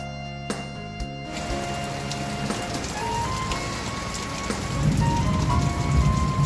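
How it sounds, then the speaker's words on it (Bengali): Steady heavy rain pours outside at Mandarmani, a dense broadband hiss that swells louder toward the end, with no voices. "বাইরে প্রচণ্ড জোরে বৃষ্টি পড়ছে"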